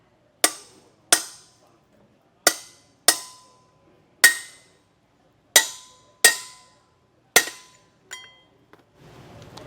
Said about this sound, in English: just tapping that in, making sure you're even all the way around with a hammer